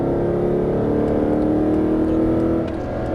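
A Mercedes-Benz SLS AMG accelerates on a race track in Las Vegas, its engine holding a loud, close, continuous drone that eases a little near the end.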